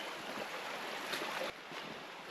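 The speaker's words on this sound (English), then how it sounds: "Walking straight through a shallow section of river." Footsteps sloshing through a shallow, rocky stretch of the Lonfit River on Guam, a steady wash of splashing water filling the whole clip, close and continuous, with a brief drop in level near the end.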